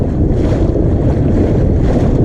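Outboard boat motor running flat out in high gear across choppy open water, a loud, steady low roar with heavy wind buffeting the microphone throughout.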